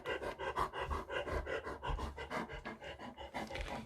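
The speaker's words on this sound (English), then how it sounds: "if you can hear heavy breathing, it's the dog, not me" A dog pants heavily and rapidly nearby, a steady rhythmic huffing that continues throughout with no voices.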